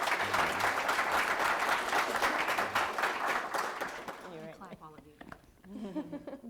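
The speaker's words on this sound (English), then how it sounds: "Please give them a round of applause." Audience applause at a manufacturing industry event, loud and steady for about four seconds before fading as a voice begins speaking.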